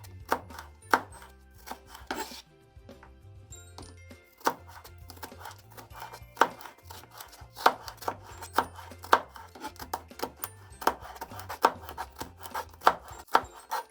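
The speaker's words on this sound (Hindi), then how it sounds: "शिमला मिर्च को हमने बारीक काट लिया है।" A knife chops capsicum into small pieces on a board, giving a run of sharp, close taps at an uneven quick rhythm with brief pauses, and no talking.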